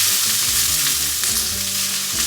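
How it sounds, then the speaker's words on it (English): Peppers sizzle in a hot pan, a loud, steady, close frying hiss that fills the whole stretch, with faint stirring scrapes and no talking. "I am going to get these peppers on the heat."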